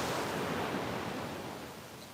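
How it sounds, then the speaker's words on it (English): Ocean waves break on a beach in a steady, loud, hissing wash of surf that fades slightly toward the end, with no voices. "And the waves are, they're starting to get a little bigger."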